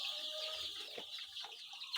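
Baby chicks in a brooder give off faint, steady high peeping and soft clucking, a continuous chorus heard from a short distance with no talking over it.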